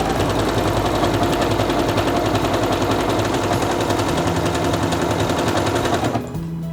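A Quantum Stylist 9960 sewing machine sews an elongated ×4 stitch with a loud, steady, rapid mechanical clatter like a fast motor-driven hammering. It runs continuously for about six seconds, then stops abruptly, leaving a faint hum.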